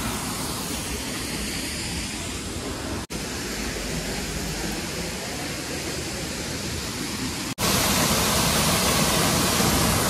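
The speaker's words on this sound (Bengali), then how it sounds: "এই যে ঝর্ণা" Waterfall near Gangtok, Sikkim, pouring as a dense, constant roar of white water, loud and close, with two brief dropouts and the rush growing stronger toward the end.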